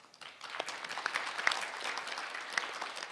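An audience at a panel session on competition for technological dominance claps to welcome the moderator, a rising then steady burst of applause with individual claps audible, moderately distant, without speech.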